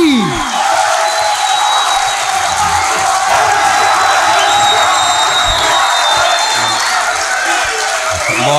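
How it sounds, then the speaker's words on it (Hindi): A large audience at a mushaira poetry gathering in DG Khan applauds and cheers to welcome poet Tehzeeb Hafi, a loud continuous wash of clapping with whoops, shouts and crowd voices throughout. "अपनी नशिस्तों से उठ खड़े हों, भरपूर तालियों में इस्तकबाल कीजिए तहज़ीब"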